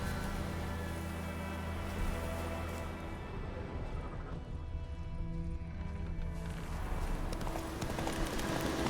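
Roach the horse from The Witcher 3 clip-clopping along in a steady hoof rhythm, with in-game music and ambience playing throughout.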